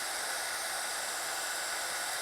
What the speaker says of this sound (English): is that just a standard Crafton heat gun that you're using for our heat embossing?